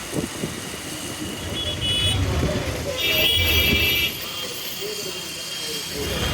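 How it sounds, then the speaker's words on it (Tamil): Heavy road traffic around the Mattuthavani bus stand in Madurai, with a continuous roar of engines and scattered horn toots, close and steady. "செம டிராஃபிக்கு."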